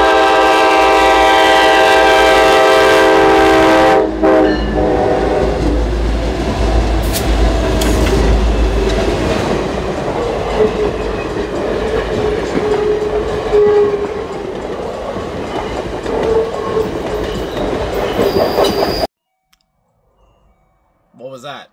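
Trains led by diesel locomotives roll past close by, with a horn blast, steady wheel clicking and rumbling wagons for most of the stretch before it cuts to near silence.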